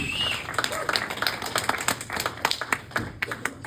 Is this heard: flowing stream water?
no